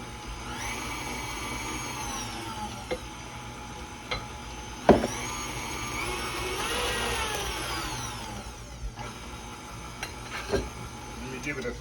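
An electric mixer whirs steadily through white wedding cake batter in a bowl, its motor droning at an even pitch with occasional clinks and scrapes against the bowl.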